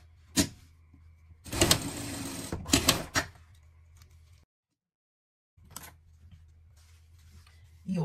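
A sewing machine stitching a pet harness, two short runs of fast mechanical whirring separated by pauses and quiet handling clicks.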